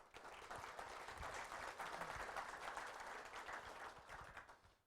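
Audience at a 1 Million Cups Wichita pitch event gives a speaker a steady round of applause, many hands clapping together at moderate distance, swelling then tapering off.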